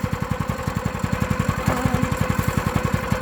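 A small Predator 212 gasoline engine idles close by with the choke off, its rapid, even putter chugging steadily with no voices.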